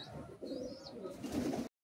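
Madrasi high flying pigeons give a short run of soft, low cooing close by, steady for under two seconds before cutting off abruptly, with no talking.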